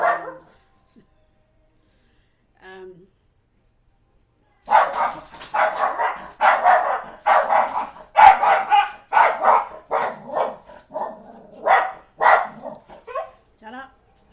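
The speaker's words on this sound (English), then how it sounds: "oh no, there's a dog, and my dog saw" Dogs bark repeatedly in a rapid, loud series of sharp yaps close by, starting after a few seconds of near silence and continuing with yips and whimpers, mixed with a person's voice.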